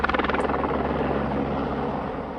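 A helicopter spraying ant bait by air over properties near the New South Wales border thuds with rapid rotor beats that fade into a steady engine drone, fairly close and loud, with no talking.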